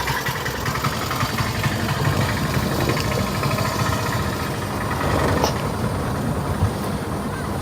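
A car engine runs steadily while the car drives on a main road, a continuous close hum heard from inside the car.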